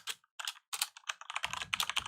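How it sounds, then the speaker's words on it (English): Close, quick typing on a computer keyboard during a Unity game-programming session, with irregular bursts of key clicks, a few short pauses, then a denser run of keystrokes; no one speaks. "so I can type over here"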